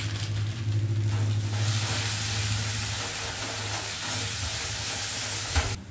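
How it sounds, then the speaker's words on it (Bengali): Ground turmeric, coriander, cumin and red chili powder frying in a pan for a doi bhetki fish curry, giving a steady loud sizzle and hiss throughout with a low steady hum beneath and a brief clatter near the end. "হলুদ, ধনে জিরে গুঁড়ো, হলুদ, রেড চিলি পাউডার দিয়ে এবার মা কষিয়ে নেবে"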